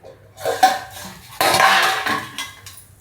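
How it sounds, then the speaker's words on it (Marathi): A lid comes off a cooking pot with metallic clanks and clattering, several knocks of metal on metal close by, with no talking. "सगळे झाकण काढते"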